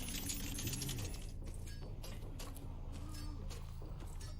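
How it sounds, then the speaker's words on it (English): Mechanical ratcheting and gear-like clicking from a cipher machine being decoded in the Identity V video game, a steady busy clatter layered over constant low game ambience with no voices. "pretty sure you heard someone up on that, hacking that console"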